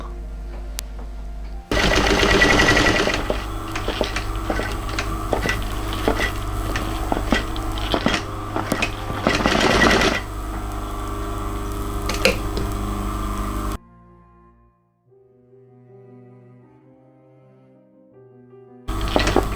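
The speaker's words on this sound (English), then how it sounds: "you sew from the upper base down to the other side before you can fix your lock" A sewing machine stitches through faux leather on a midi bag, running loud and busy for about twelve seconds, then going quiet with faint tones before starting up again briefly.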